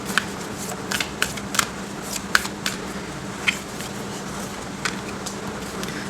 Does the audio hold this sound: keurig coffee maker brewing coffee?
no